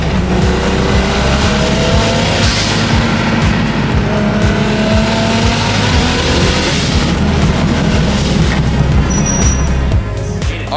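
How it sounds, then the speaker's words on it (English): Porsche 992 GT3 on its stock exhaust, fired up in a shop: a loud, continuous engine roar holding steady for several seconds with rising and falling revs, dense and close, no talking. "Alright guys, we're starting the GT3 up right now, and we're gonna hear how this thing sounds stock"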